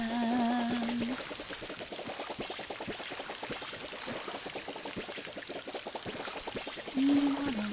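A watering can sprinkling plants in the video game Palia, a continuous pattering pour running close and steady throughout, framed by short melodic game tones at the start and end.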